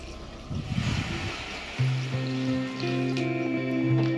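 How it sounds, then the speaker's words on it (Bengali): Hot water poured from a vessel into a pot of mutton bhuna, a steady gushing pour that rises in pitch as the pot fills, loud and close with no talk. "ঢাকা তুলে আমরা এর মধ্যে দেব গরম জল"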